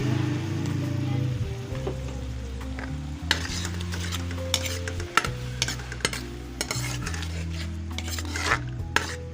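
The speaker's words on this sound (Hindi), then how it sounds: "ये टमाटर के पेस्ट डाल रही हूँ।" Tomato paste goes into a hot pan of beef and spinach, bringing a steady close sizzle broken by scraping stirs and sharp clinks of a spoon against the pan, with a low hum running underneath.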